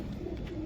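Old-breed domestic pigeons cooing nearby, soft low throaty coos heard briefly and faintly without talk.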